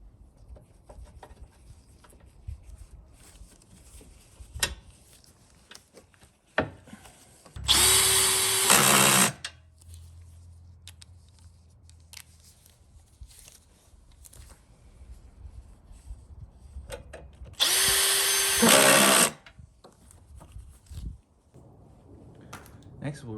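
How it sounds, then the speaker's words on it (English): A power socket driver with a 13mm socket runs up bolts on the rear tank bracket of an Avant 528 loader, giving two loud whirring bursts of about two seconds each between quieter handling noises. "To finish securing the tank, we'll attach the rear bracket with the 13mm socket driver."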